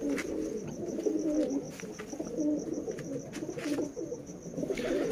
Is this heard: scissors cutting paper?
no